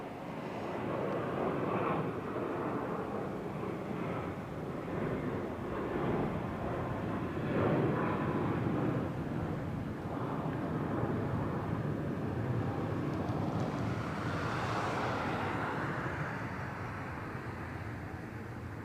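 An airliner arriving on the runway at Barcelona El Prat airport, a broad steady roar of jet engines that swells and holds for nearly twenty seconds, heard from a distance with no talking.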